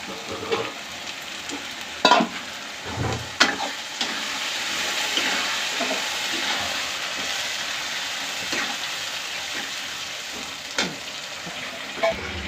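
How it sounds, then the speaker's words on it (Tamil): Ground tomato poured into a hot pan of spiced oil for an ivy gourd gravy sends up a steady, close sizzle, broken by a few sharper splutters and stirring knocks. "அரைச்சி வச்ச தக்காளியே ஊற்றிக்கலாம்"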